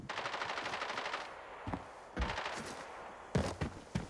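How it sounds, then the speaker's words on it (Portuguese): Enemy automatic gunfire in the shooter game Arena Breakout: sustained rattling bursts, then separate sharp cracks and short volleys, loud and fairly close, with no talk. "os tiros deles."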